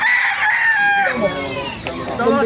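A rooster crows loudly and close by at the Bocaue tyangge market, one long drawn-out call with a wavering tail lasting about two seconds, with faint market chatter underneath.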